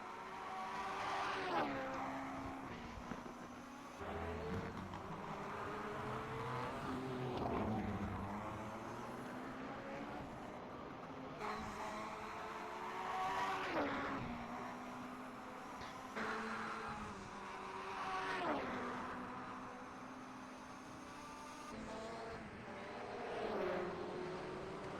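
A Benetton Formula 1 car from the 1988 British Grand Prix qualifying in a racing video game, its engine note rising and falling through repeated gear changes, loud and continuous with no talk.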